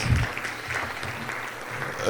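A round of applause rises from the audience at a close-out ceremony for a Nigerian HIV program, a continuous bed of many hands clapping at moderate level with a low thump at the start.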